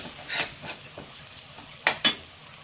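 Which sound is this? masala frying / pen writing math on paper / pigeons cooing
masala frying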